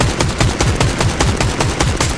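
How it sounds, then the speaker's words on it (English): Rapid automatic gunfire in Fortnite, a steady stream of evenly spaced shots filling the whole stretch, loud and close with no pauses. "keep shooting"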